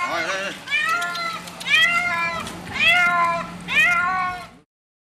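A stray cat meows in four long, loud, plaintive cries close by, each rising and falling like wailing, with brief gaps between them and faint background noise.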